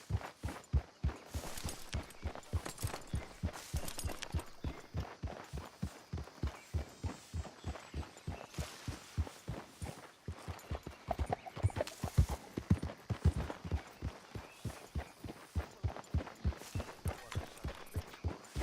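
Horse hooves clip-clop in a steady, brisk rhythm throughout, close and clear in the Western video game Red Dead Redemption 2, with faint game ambience underneath.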